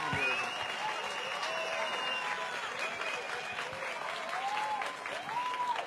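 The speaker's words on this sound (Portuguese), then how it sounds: "palmas para ela." Audience applause for a woman at a political rally, sustained clapping with whistles and cheers rising and falling above it.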